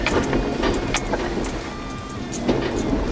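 Jeep Wrangler with a manual transmission and limited-slip differential crawling off-road, its engine a steady continuous rumble with scattered bumps and rattles throughout, close and fairly loud.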